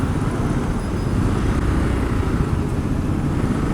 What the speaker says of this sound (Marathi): ट्रॅफिक संपायचं नावच घेत नाही.